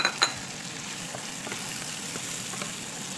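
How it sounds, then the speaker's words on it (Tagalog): Shrimp stir-fried in a pan for sotanghon guisado, a soft steady sizzle with faint scraping stirs and a couple of light utensil clinks near the start, close and moderately quiet. "hahaluin lang natin siya hanggang maging kulay pink yung ating shrimp"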